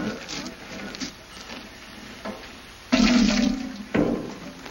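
Water from a homemade shower splashes and patters, with short louder gushes near the end over a steady background hiss.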